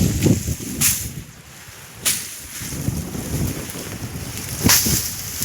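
Strong gusty wind blowing across an open field during sesame threshing, roaring and buffeting the microphone steadily, with a few sharp louder gusts and no voices.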